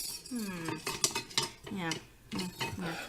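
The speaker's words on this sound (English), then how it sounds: "And then we're going to stir it around." A spoon stirs seasoning mix into a sauce in a pot, giving a few short clinks and scrapes against the metal. A voice talks over most of the stirring.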